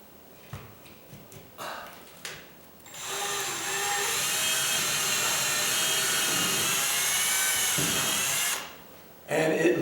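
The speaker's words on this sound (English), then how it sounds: "I'm going to drill this" A power drill whines steadily for about six seconds, loud and close, drilling up into a condo ceiling, its pitch wavering slightly as it bores, with brief handling noises before and after.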